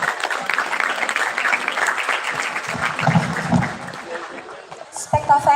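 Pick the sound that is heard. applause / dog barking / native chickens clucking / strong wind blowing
applause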